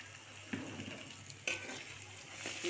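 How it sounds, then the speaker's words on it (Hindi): Ginger garlic paste frying in a pan gives a steady, quiet sizzle, broken by a couple of soft spoon scrapes, with no one talking. "इनको अच्छी तरह थोड़ा सा इनको फ्राई कर लेंगे।"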